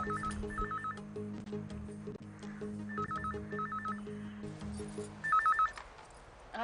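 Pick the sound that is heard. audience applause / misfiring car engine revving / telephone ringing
telephone ringing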